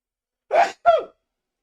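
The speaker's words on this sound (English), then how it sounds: "I'm gonna sneeze." A single close, loud sneeze with a sharp inhaled gasp followed by the burst, brief and alone with no talk around it.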